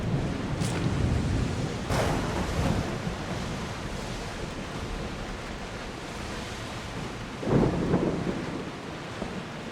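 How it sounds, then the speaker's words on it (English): Thunder rumbles over steady rain, wind and surging sea waves during a storm at sea in Assassin's Creed Odyssey, with a sharp crack near the start and a heavy roll of thunder toward the end. "Thunderstorm here."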